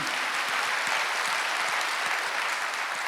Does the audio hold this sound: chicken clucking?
no